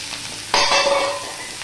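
Cut potato drops into spiced oil that already holds an onion tempering, for a fish jhol. A sudden loud hiss of frying flares up and holds steady, close and alone.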